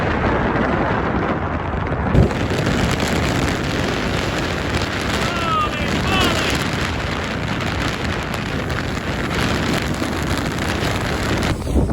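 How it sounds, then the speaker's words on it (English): Strong gusting wind roars continuously across the microphone on an exposed mountain ridge of the Skyline Trail in Jasper after the fire, loud and unbroken for the whole stretch with no talk. "The wind's blowing so hard, I crouched down really low."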